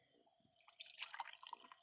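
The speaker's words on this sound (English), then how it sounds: "Let's go ahead and pour this coffee right in." Coffee poured into a small mug, a soft close trickle and splash of liquid that starts after a short quiet moment and runs steadily to the end.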